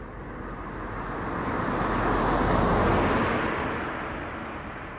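A car passes along a roadside, its tyre and engine rush swelling to a peak midway and fading away again, loud and close with no talk.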